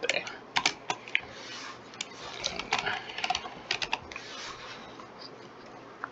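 Fingers type text on a computer keyboard in quick, irregular bursts of crisp key clicks, close and fairly quiet, with short pauses between runs.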